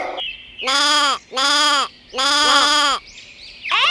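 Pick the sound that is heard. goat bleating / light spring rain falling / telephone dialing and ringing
goat bleating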